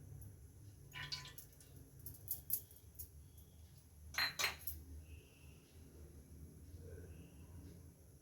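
Metal pan clattering onto a home kitchen stove while preparing brinjal gojju, a few faint clinks and knocks with a louder pair of metallic taps midway, quiet room, no speech.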